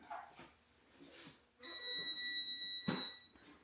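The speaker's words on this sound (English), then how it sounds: "Either the air conditioner or the security system is beeping." Steady electronic beeping from an air conditioner or security system, a loud high tone with overtones lasting about two seconds, with a short burst of other noise near its end.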